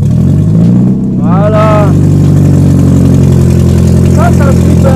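A powerful car engine idles steadily and loud, holding a deep throbbing tone throughout, with brief rising whines as it blips; one person says a single word over it.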